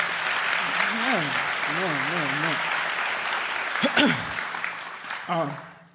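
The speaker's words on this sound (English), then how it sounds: "Can we clap it up?" Crowd at an ELEVATE Orlando 15th anniversary party claps continuously, a full, even roar of hands with voices calling and cheering over it, trailing off near the end.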